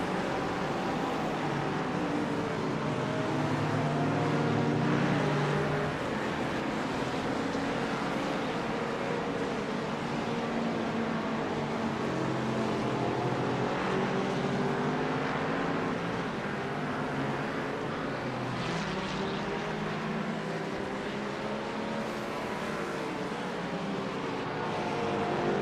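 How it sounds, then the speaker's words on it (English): A Mustang race car engine in iRacing at Barcelona, a steady, fairly quiet engine drone holding on for the whole stretch, with shifting pitch bands layered over it and no voices. "Can't even hear my own engine over that Mustang."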